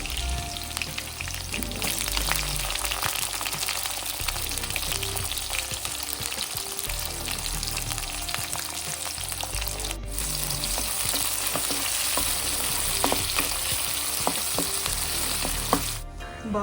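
Onions and green chillies frying in oil in a kadai, a steady, loud, crackling sizzle throughout with occasional stirring scrapes and clicks.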